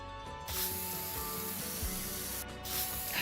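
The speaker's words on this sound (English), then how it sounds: "God, I love the spray paint sound." Spray paint sound effect from The Sims 4, used while aging and weathering a house build: hissing spray bursts, one starting early and another later, over a steady tonal in-game music bed, with no speech.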